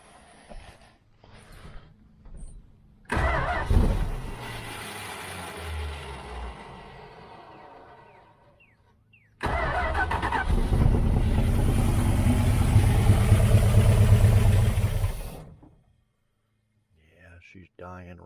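A 1978 Dodge Aspen R/T engine with a dirt-clogged carburetor float cranks and briefly fires, running rough for a few seconds, then catches again for a longer loud stretch before dying abruptly.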